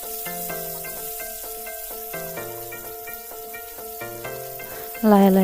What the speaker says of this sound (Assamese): মাছখিনি মই অলপেই ভাজিম